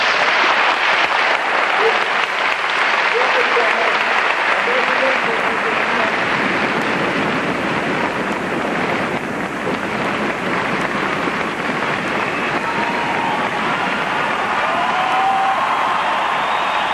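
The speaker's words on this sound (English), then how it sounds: "One last applause in his house." Loud, sustained applause and cheering from a large arena crowd at a tribute to basketball player Hank Gathers, a dense continuous roar that holds steady and fills the space for the whole stretch.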